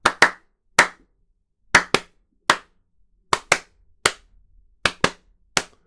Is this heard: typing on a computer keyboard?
no